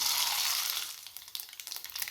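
Mustard seeds drop into a little hot oil left in a kadhai, making a loud hiss that fades into scattered popping crackles, close and without talk.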